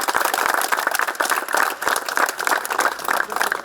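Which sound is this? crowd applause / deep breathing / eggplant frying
crowd applause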